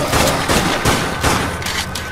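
Rapid gunfire from shooting zombies in the video game Dead Nation, a steady loud barrage of overlapping shots with repeated bursts and booms, with no voices.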